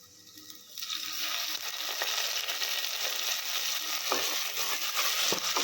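Almonds frying in a pan for a palak paneer curry, a steady soft sizzle and crackle that rises after the first second and holds, with a few sharper stirring clicks near the end.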